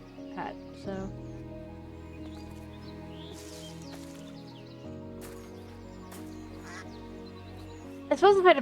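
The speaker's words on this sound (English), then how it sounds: "Ducks!" Ducks in a modded Minecraft survival game give a few faint, scattered quacks over soft background music, followed by a louder burst of quacking at the very end.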